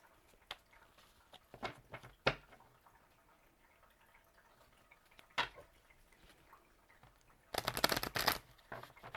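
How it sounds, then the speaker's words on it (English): Several short, crisp riffling bursts of cards being shuffled, spaced apart, ending in a longer, louder shuffle near the end; no talking. "I want to make sure I shuffle them really good"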